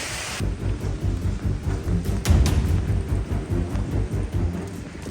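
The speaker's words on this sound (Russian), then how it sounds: "Начался дождь." Evening rain falling on the way back to Brooklyn in New York, a constant hiss with low rumbling underneath, steady and moderately loud with no talk.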